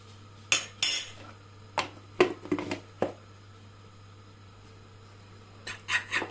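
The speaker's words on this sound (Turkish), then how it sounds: "Bir güzel çırpalım." A utensil whisks flour into carrot soup in a pot, giving quick clinking, scraping bursts of metal against the pan, several in a row, then a pause before another flurry.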